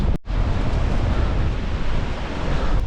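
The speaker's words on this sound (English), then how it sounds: "Hoping you'll be able to hear me over the wind." Wind blows through historic woods on a cross-country running course, roaring and buffeting the microphone in a loud, continuous rumble with no voices.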